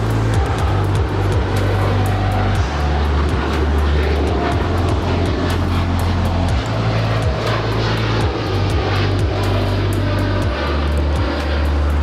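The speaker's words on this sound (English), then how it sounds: "This is American Airlines 1598 Heavy departing to Chicago. It's a 787-8 Dreamliner." An American Airlines Boeing 787-8 Dreamliner departs from Los Angeles for Chicago, its jet engines giving a steady, loud roar with a low droning hum throughout.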